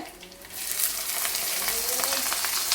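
Four garlic cloves and two green chilies hit hot oil, breaking into a bright, steady sizzle after a brief quiet start, with light stirring clatter, up close.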